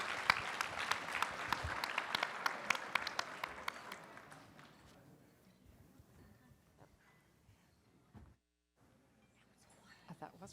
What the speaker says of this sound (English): if we could give a round of applause to everyone